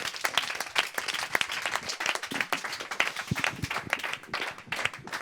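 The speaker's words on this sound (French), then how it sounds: "Merci vous deux, on vous applaudit encore." Audience applause after a presentation at a demo day event, dense continuous clapping from a room full of people, moderately distant and fairly quiet, with little talk.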